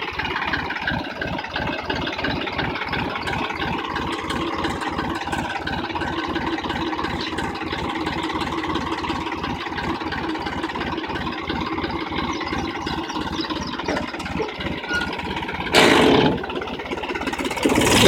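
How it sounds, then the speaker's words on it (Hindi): A Massey Ferguson 245 DI diesel tractor engine chugs steadily with a rapid, even low thumping rhythm, close and continuous, with a brief burst of noise near the end. "क्या शानदार आवाज है ट्रैक्टर की।"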